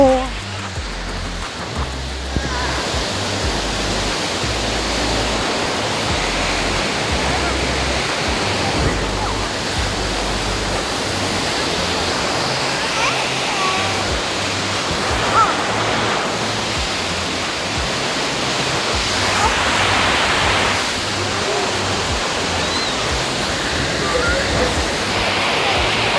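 Rhine Falls, Europe's largest waterfall, roars as a loud, steady broadband rush of falling water in fog, unbroken for the whole stretch, with faint voices now and then beneath it.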